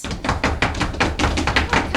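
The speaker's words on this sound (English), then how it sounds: "Are you knocking at the gate?" Rapid, hard knocks on a gate, about eight loud close raps in an uneven, insistent rhythm, heard alone without any voice.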